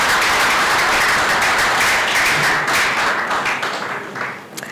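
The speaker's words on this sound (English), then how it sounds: "Let's give him another round of applause." Sustained applause from an audience at an academic launch ceremony for a cybersecurity and intelligence degree programme in Accra, Ghana, dense and steady and then thinning toward the end.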